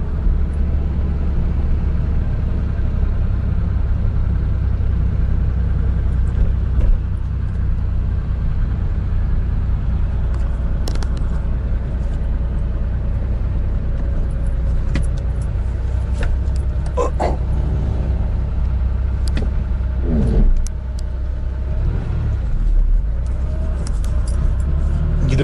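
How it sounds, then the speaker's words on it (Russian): Pickup truck without power steering, steady loud engine drone in first gear heard from inside the cab, a low continuous rumble with faint rattles and clicks on top and no talking. "этот звук издает первая передача, а не я"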